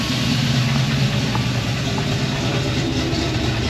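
An LS-swapped 1956 Chevy long roof idles steadily through its mufflers, a continuous low, even rumble recorded close by with no voices.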